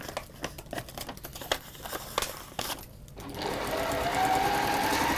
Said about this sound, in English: And you can start stitching just a little way off.